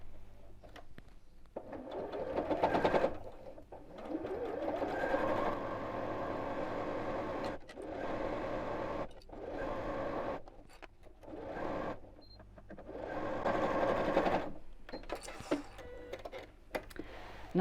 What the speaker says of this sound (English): I'm just going to sew around here really close to the edge